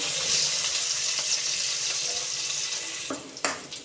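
Garlic sizzles in hot oil alongside curry leaves for a mango raita tempering, giving a steady close crackle that tapers off, followed by a couple of sharp utensil knocks near the end.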